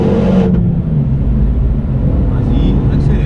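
Car accelerating on the Castellet race circuit, a loud, close engine roar with a low rumbling drone that holds steady throughout, with an instructor's voice heard over it.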